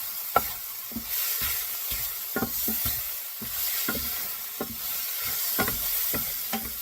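Mushrooms and Italian sausage sizzle in a hot pan under a steady frying hiss, with repeated scraping stirs of a utensil cutting through at irregular intervals; close and moderately loud, no talking.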